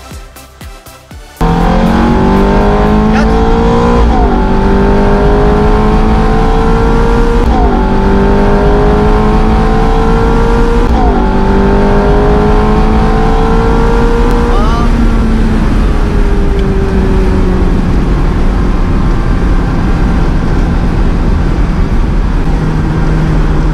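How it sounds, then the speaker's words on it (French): A loud Ferrari V8 engine in a convertible revs repeatedly, pitch climbing in several long pulls with brief drops between gear changes, then settling into a steady roar with wind rush. "quoi de plus plaisant qu'une Ferrari décapotable pour profiter, cheveux au vent, du formidable son du moteur V8"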